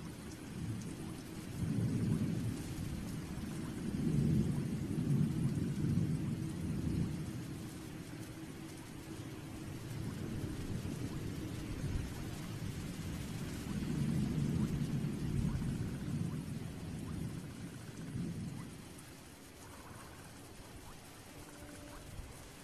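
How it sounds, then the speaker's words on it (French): Steady rain falls on the ground while deep thunder rolls through in long, heavy waves. The storm stays fairly quiet and distant throughout, and no one speaks. "Au matin, il pleut toujours."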